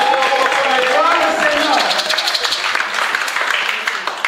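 Congregation clapping and cheering during a church worship service, a dense, steady wash of applause filling the room with voices mixed in.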